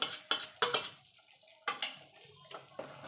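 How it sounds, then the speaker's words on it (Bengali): A spoon stirs sour yogurt into an egg curry in a metal pan, giving several sharp clinks and scrapes in an uneven rhythm, with quiet gaps and a soft simmer between. "এবার দিয়ে সঙ্গে সঙ্গে কিন্তু এইভাবে নাড়তে হবে না হলে টক দইটা ফেটে যেতে পারে"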